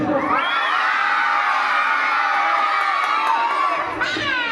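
A large group of children shouts and cheers together at once, a loud, sustained, high-pitched chorus held for several seconds at a school gathering, briefly dipping near the end before rising again.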